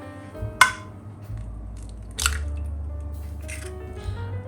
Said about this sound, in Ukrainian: Далі додаємо сюди одне яйце.